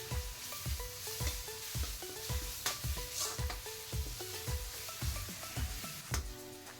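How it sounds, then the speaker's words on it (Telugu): A spoon stirs ginger-garlic paste and turmeric frying in oil for chicken curry. A soft sizzle runs underneath a steady rhythm of scraping and clinking strokes, roughly two per second, close and moderately loud, with no talking. "ఇది 2 మినిట్స్ పచ్చివాసన పోయే వరకు కలుపుకోవాలి"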